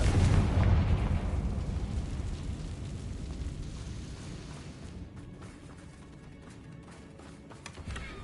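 A Confringo spell explosion in the Hogwarts Legacy video game, a loud deep boom that rumbles heavily at first and then decays slowly into a long fading roar, with a small pop near the end.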